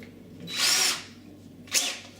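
A power drill works while a door chain is being fitted to a door, giving two short high-pitched whirring bursts, the first about half a second long and the second briefer, close by against a quiet room.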